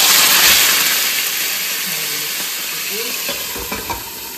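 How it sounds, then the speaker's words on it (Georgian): Steady, loud sizzle of chicken frying in a hot oiled pan, a continuous hiss with a few faint clicks near the end. "გახურებულ ტაფაში, სადაც არის ზეთი უკვე ჩასხმული ვათავსებს"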